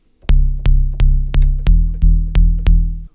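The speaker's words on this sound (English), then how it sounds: "I made this FM bass in Serum which sounds like this." FM bass patch built in Serum from two sine waves, one pitched up an octave and seven semitones, for a house track: eight punchy, loud bass notes in a steady rhythm, each with a sharp attack, no voices.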